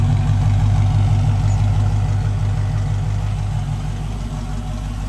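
A Rover P6B 3500S car engine idles at about 700 rpm, a loud, steady low rumble with an even pulsing beat that fades slightly toward the end, with no voices over it.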